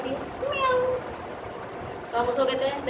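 A human voice imitates a cat's meow twice, a drawn-out rising-falling call near the start and another near the end, over faint background noise.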